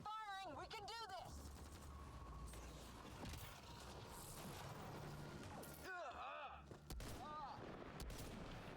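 Rapid gunfire in the sci-fi shooter Mass Effect Andromeda, a dense, continuous battle din of shots and combat effects that runs throughout, with voices talking over it.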